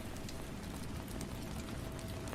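Steady rain falls against glass in a quiet village setting, a dense, even wash of patter and drips with no gaps, moderately quiet and continuous throughout.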